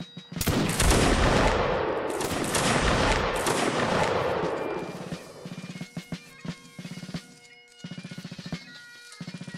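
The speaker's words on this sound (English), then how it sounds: "Present." A line of muskets fires a volley in a Napoleonic Wars battle game: a loud rolling crash of many shots blending into one long roar, fading after a few seconds into sparse scattered pops and clicks.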